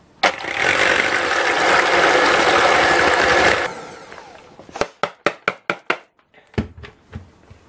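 Egg whites with a pinch of salt are whisked by a steady electric mixer whirring loudly for several seconds, then it stops and a run of sharp taps and knocks follows, likely beaters striking the bowl rim.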